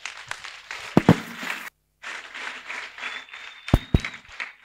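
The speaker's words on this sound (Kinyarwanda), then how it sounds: "dukoma amashyi menshi dushimira umukozi w'imana" An audience claps in applause at a student gathering, a dense patter of hands with a brief pause, then resumes with a few sharper, louder claps standing out.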